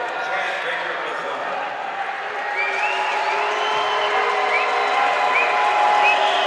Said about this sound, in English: as you hear the crowd going wild